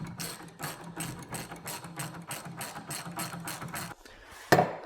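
Ratchet driving a 1/4 inch lag bolt into a wheelbarrow, a close rhythmic run of about a dozen quick clicking strokes that stops, followed by a single sharp knock.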